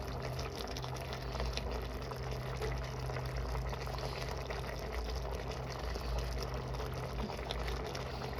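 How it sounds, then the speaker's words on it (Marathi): Pot of matki amti, a moth bean curry, bubbling at a steady boil, a continuous soft simmering wash with faint gurgles and no voices. "मस्त अशी उकळी आलेली आहे"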